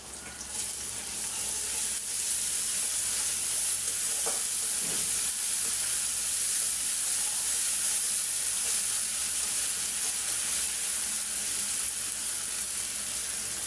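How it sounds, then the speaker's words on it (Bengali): Ginger garlic paste sizzling steadily in hot oil while frying for a hilsa fish curry with vegetable stems, a continuous close hiss with a few faint stirring scrapes and no talk. "এখন দিয়ে দিলাম আদা রসুন এক চামচ।"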